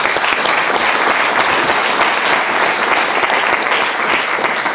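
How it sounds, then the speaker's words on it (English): Dense, loud audience applause at an academic event where sixteen AXA postdoctoral fellows present research projects, a steady wash of many hands clapping throughout with no pauses. "let's give them a round of applause and congratulate them."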